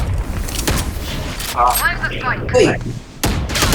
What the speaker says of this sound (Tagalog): Puta, binaril ako sa likod, pre.